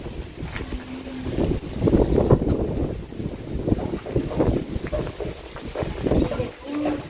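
Dry wind buffets the microphone outdoors during house painting, a steady rumbling roar with gusts rising and falling throughout, while people talk underneath.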